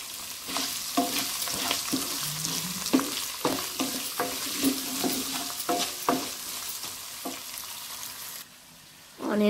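Chopped onions and green chillies frying in hot tempering oil with potatoes, a loud close sizzle broken by repeated scraping stirs of a spatula, ending in a sudden drop to quiet.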